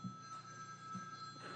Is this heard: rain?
no